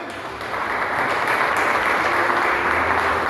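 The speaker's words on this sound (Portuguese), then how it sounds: "Você pode aplaudir a Deus, irmão," Members of a worship-service congregation break into applause, starting softer and swelling into steady, sustained clapping that fills the room.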